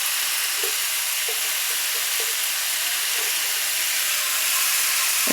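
Boiled chickpeas and peas stirred in a frying pan, a dense steady hiss of frying with a few soft spatula knocks and scrapes, loud and close, with no speech.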